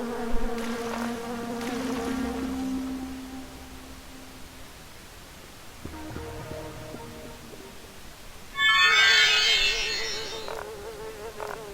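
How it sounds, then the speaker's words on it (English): A dense swarm of bugs buzzes in the video game Docking Station, a steady insect drone that swells into a louder, brighter buzz near the end, with no talking. "Wow, look at all those bugs. That is a lot of bugs."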